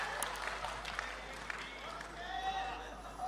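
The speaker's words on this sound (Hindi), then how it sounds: "तालियां बजनी चाहिए" A comedy show audience claps and cheers briefly, with light applause that blends with some background chatter.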